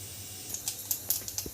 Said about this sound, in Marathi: मोहरी तडतडले, आता आपल्याला लसूण टाकायचे